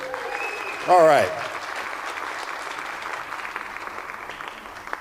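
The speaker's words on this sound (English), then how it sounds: "Let's give them a round of applause." Steady audience applause fills a hall at the opening ceremony of the 2023 FISU World Conference in Lake Placid, even clapping throughout, with a voice briefly speaking over it near the start.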